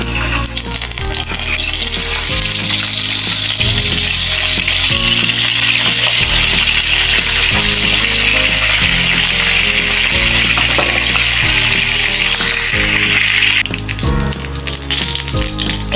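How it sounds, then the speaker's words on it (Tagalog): Dalag mudfish fries in a pan of hot oil with loud, continuous sizzling and crackling throughout, close up, with no talking. "Prito muna natin itong dalag."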